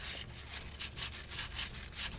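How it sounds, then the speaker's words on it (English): Stiff grunge brush scrubbing greasy, rusted differential bolt heads, a loud close rhythmic bristle scrubbing in steady strokes of about three per second, with no voices. "got a grunge brush"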